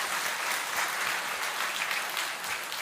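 Steady, dense clapping from an audience at a religious darbar gathering of Pandokhar Sarkar, continuous and fairly loud for the whole stretch without a break.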